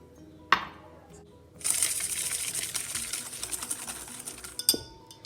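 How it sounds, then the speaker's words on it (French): Whisking egg yolks with sugar in a bowl for tiramisu: a sharp clink, then a quick, rhythmic metallic whisk rattle for several seconds, ending with another knock against the bowl. "on va blanchir les jaunes avec les 75 g de sucre"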